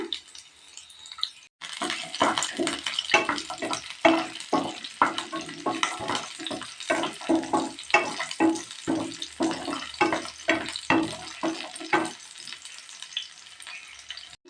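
Onion, garlic, red chillies and tamarind fry in a hot pan with a steady sizzle, broken by repeated rhythmic scraping strokes of a spoon stirring, close and fairly loud after a short quiet start.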